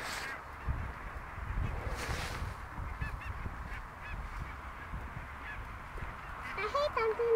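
A flock of geese in a field gives scattered honking calls, mostly distant and faint with a louder nearer honk near the end, over wind-like outdoor rumble and soft human voices.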